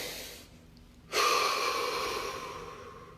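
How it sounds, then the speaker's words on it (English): A deep breath drawn in during a guided relaxation session, a single long, close inhale that begins abruptly and trails off slowly, heard alone with no talking. "Follow the impulse to take a deep breath."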